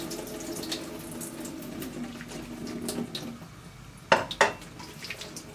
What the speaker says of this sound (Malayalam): കുറച്ച് തണുത്ത വെള്ളം കൂടി ഒഴിച്ചു കൊടുക്കാം